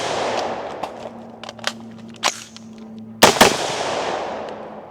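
An over-gassed AR-15 rifle fires outdoors, with a few sharp, loud cracks including a close double shot near the end, plus distant echoing pops.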